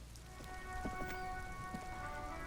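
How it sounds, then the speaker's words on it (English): Steady rain in the video game Disco Elysium, a continuous patter on surfaces with a faint sustained tonal hum underneath, no talk. "It's raining again."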